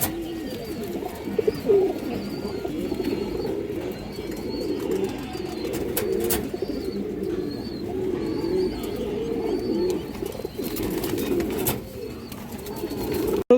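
A Bagha Khaki female pigeon of an old bloodline coos repeatedly in soft, rolling phrases, close and clear, with a few faint chirps and rustles around it and no talking.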